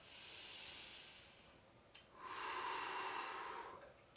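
Deep, slow breathing during a yoga hip stretch, a long inhale followed by a fuller, breathy exhale, close and quiet with no talking.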